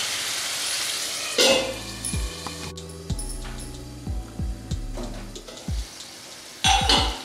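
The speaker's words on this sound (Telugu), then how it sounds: "ఇప్పుడు ఈ టమోటో ముక్కలు మెత్తగా అయ్యేంత వరకు మనం దీన్ని వేయించుదాము" Tomato pieces fry in a pan for a bachali leaf and egg curry, giving a soft sizzle broken by scraping and clanking of a utensil against the pan, with no voices.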